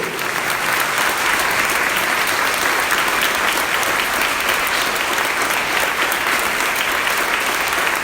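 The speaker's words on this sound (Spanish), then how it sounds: "Fuertes aplausos para el Rey." Sustained, vigorous applause from a church workshop congregation for the King, an even wall of many clapping hands that runs loud and unbroken for several seconds.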